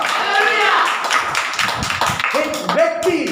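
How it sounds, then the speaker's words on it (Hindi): A church congregation claps in a steady, loud run of overlapping hand claps through a Hindi Christian worship service, with a preacher's voice speaking over the clapping. "अरे जोरदार ताली बजाओ यीशु के नाम से"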